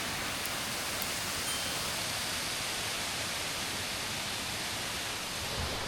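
Drainage water trickling beside a hiking trail on the Bruce Trail near Grimsby, a soft continuous hiss of running water heard close and steady with no talking.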